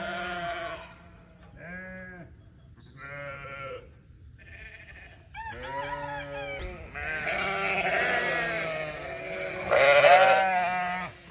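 Lambs and ewes in a lambing shed bleat loudly just after feeding, with many overlapping calls close by, rising and falling in a noisy chorus that grows more intense toward the end.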